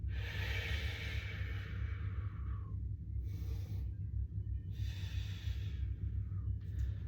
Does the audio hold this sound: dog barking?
no